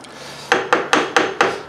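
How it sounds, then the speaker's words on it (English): Spices being stirred in a cooking pot for Belizean rice and beans, five evenly spaced scraping strokes of a spoon against the pot, close and fairly loud. "Stir this around."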